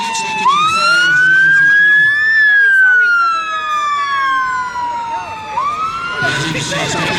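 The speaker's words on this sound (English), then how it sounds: "It looks like it is fire engine." A fire engine siren wails at an emergency services day display arena, with a loud, close tone sweeping up and slowly falling, then rising again, and a brief burst of crowd noise near the end.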